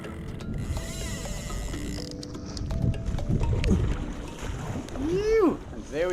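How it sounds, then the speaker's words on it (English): Kayak paddling while out fishing: strokes splash and gurgle in the water amid clicks and mechanical rattles, with wind and an outdoor ambience, and a whistling sweep near the end. "Let's go, keep paddling."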